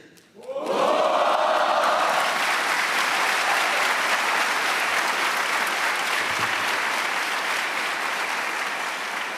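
A large crowd of cadet candidates at a West Point summer leader graduation bursts into loud, sustained applause that starts abruptly and holds steady throughout, with scattered cheers mixed in.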